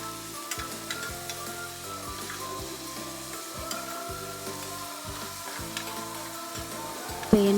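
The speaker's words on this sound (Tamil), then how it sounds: "இப்போ கடாயில் எண்ணெய் ஊற்றிடுவோம்" Oil heats in a kadai with a steady, moderate sizzle and hiss, punctuated by occasional light pops, continuing evenly throughout.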